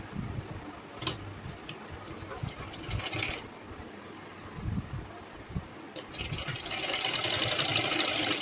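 A sewing machine stitches lace onto the hem of a short frock, with short bursts of fast mechanical ticking and whirring that start and stop, separated by quieter handling sounds and faint background noise.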